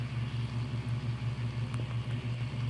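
A noisy car engine in a mobile video game, a steady low droning rumble with a regular pulsing throb, continuous and fairly loud throughout.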